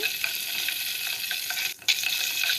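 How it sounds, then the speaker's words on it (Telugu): Cumin seeds, curry leaves and chillies frying in hot oil for a tempering, a steady bright sizzle with faint crackles and a brief stir near the end, no voices. "జీలకర్ర కరివేపాకు మిరపకాయలు అన్నీ వేసి బాగా వేయించాలి"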